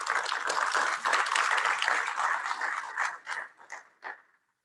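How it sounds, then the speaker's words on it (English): Audience applause at a university research round table on community perspectives, dense clapping from a seated crowd that holds steady for about three seconds, then thins into scattered claps and fades out. "let's give a round of applause to our next panel"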